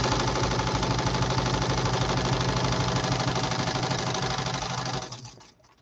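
A SmartStitch 1501 embroidery machine stitches lettering with a steady, fast mechanical chatter close by, running evenly before slowing and stopping near the end.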